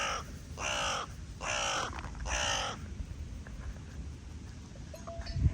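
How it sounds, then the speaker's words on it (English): A crow caws from close by in a row of four harsh calls, then falls quiet over low outdoor background noise. "there's a crow right next to me."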